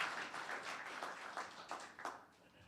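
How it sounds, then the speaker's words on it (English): Scattered applause from a town council meeting audience comes in as faint, fairly sparse clapping at a distance, tapering off by the end. "Another round of applause for Mr. Gerber."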